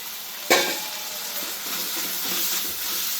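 Coriander, curry leaves and mint frying in a pan give off a steady loud hiss and sizzle, opening with one sharp knock of a utensil and then crackling evenly to the end.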